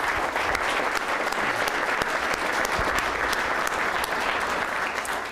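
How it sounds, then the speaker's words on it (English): A full round of applause from the audience at an Alaska Legislature address, dense and sustained across the whole stretch, loud and even without a break. "How about a round of applause for the Coghills?"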